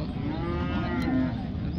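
A cow moos with a low, drawn-out call over a steady background murmur of a busy outdoor cattle market where heifers are traded.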